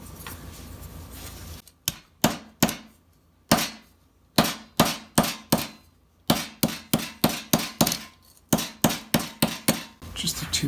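Steel armet helmet sides struck repeatedly with a hammer to flare them, loud close metallic blows in quick irregular bursts of several strikes with short pauses between.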